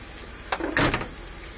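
Car doors of a 1962 Lincoln Continental being shut nearby, two solid thuds in quick succession, the second louder, with a quiet background and no talking.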